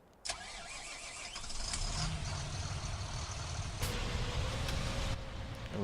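A Fendt 1000 tractor engine in a farming game cranks over and catches with a sharp start, then settles into a steady, fairly quiet mid-pitched idle with a slight rise in revs.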